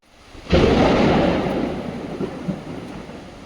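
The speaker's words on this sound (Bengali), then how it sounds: "এত মেঘ ডাকছে আজকে প্রথম বৃষ্টি শুরু হয়েছে" Loud thunder breaks suddenly during the first monsoon rain in Mumbai, then rolls into a long rumble that slowly fades under the hiss of rain.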